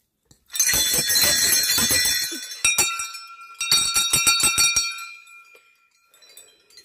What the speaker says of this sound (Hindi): यहाँ पे घंटियाँ चढ़ाई हुई हैं